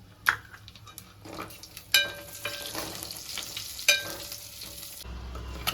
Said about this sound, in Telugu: ఇలా బ్రౌన్ షేడ్ వచ్చే వరకు వేపేసుకోవాలండి